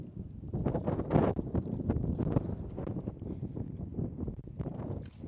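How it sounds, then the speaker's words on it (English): Gusty wind blowing snow roars and buffets the microphone in uneven bursts, with rustling noise throughout and no voices. "You see the gusts of snow blowing right now?"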